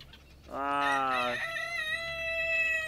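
In a farm coop, a rooster crows loudly close by in a long harmonic call that shifts pitch midway and holds, with faint hen clucking in the background and no talking.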